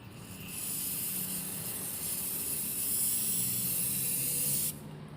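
Elano sealant spray hisses steadily from an aerosol can onto a pipe for about four seconds, loud and close, then cuts off abruptly.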